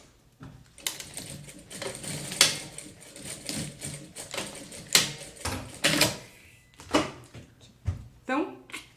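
A sewing machine stitches a crossbody bag, worked slowly by hand with the handwheel, giving a series of irregular clacks and knocking bursts that stand out amid a quiet room, with a person talking in between.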